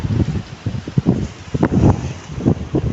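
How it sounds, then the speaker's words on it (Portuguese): Strong wind gusts batter the microphone on a hillside residential area in Cubatão, Brazil, during a storm, with rough, uneven low roaring surges rising and falling throughout. "O vento continua forte aqui ainda."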